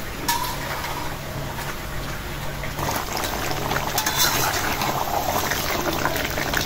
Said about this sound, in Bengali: কড়াই ধুয়ে নাও